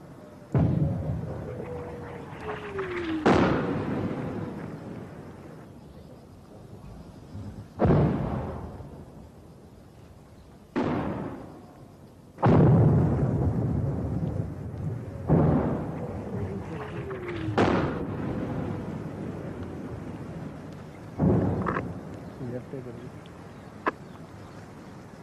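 Artillery guns firing on command in a battle setting: several heavy booming blasts spread across the stretch, each with a long rumbling decay, fairly distant, with voices shouting orders between shots.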